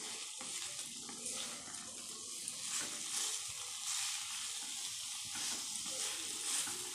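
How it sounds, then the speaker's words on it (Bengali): Pieces of rohu fish frying in a pan for a lemon rohu recipe give a steady, close sizzling hiss that runs unbroken throughout, with no talking. "ভাজা ভাজা হয়ে গেছে"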